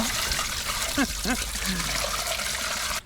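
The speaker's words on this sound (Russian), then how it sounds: "Ну что ж, заливаем воду." Water pours and splashes steadily into a Ural 4320 truck, a continuous rushing flow with a couple of brief voice sounds over it, then stops abruptly.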